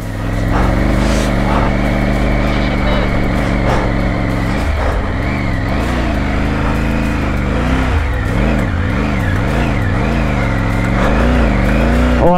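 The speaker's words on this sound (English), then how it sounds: "Let it rev and we'll keep going." A Triumph Tiger adventure motorcycle engine roars loud and close in first gear on a high mountain trail toward Umling La, its revs surging and dipping in wavering pitches with no talking.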